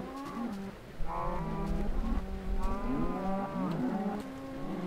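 A Minecraft cow moos repeatedly in drawn-out, wavering calls, close and clear over a low background rumble, with no talk.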